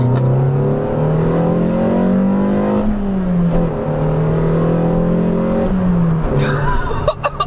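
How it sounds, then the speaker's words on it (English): A tuned four-cylinder car engine with Newman cams revs hard in second gear around 3,500 rpm and holds high, its droning growl rising and dipping across several seconds, close and loud. "It doesn't sound like a 4-cylinder engine."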